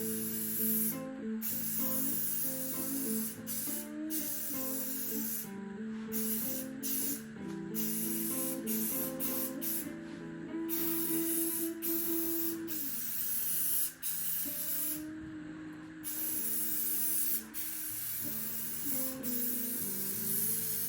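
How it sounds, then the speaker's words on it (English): A spray gun spraying paint onto a guitar body hisses in long bursts with brief pauses between passes, loud and close, a steady airy rush over faint background tones. "I won't spray it as fast."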